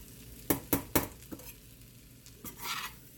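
Butter is stirred into salmon and jasmine rice in a pan with the heat off: three quick scraping strokes in a row, a pause, then a longer scrape and shuffle, close and moderately loud.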